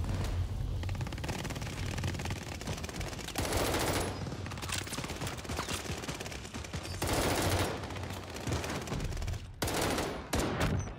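Continuous rapid automatic fire from the AS-44 rifle in Call of Duty: Vanguard, dense rattling bursts that run almost without a break, loud and close, with brief gaps between volleys.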